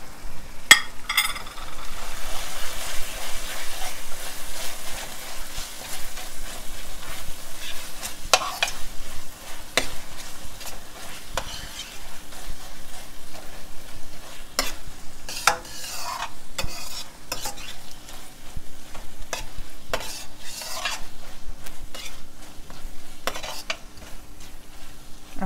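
Tomato paste fries in a pan for a Caribbean stewed butter fish dish, with a low, continuous sizzle under repeated scraping and clinking strokes of a utensil stirring against the pan.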